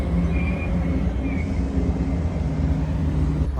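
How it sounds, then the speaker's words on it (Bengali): A train pulls into Shymkent railway station in Kazakhstan, a steady low rumble and rolling hum filling the scene with faint high squeal tones, loud and continuous without talk. "আমাদের ট্রেন চলে এসছে সিমকেত টু তাসকেন্ট যাওয়ার জন্য।"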